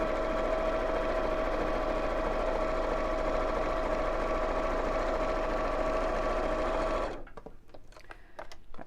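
A sewing machine stitches a seam with the presser foot edge as the guide, a steady close-up whirring hum that runs unbroken for about seven seconds, then stops, leaving a few faint clicks and handling sounds.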